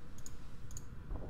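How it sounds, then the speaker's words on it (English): A computer mouse gives two quick double clicks, crisp and close, about half a second apart, over faint background noise with no talking. "I keep clicking to use instead of pressing space."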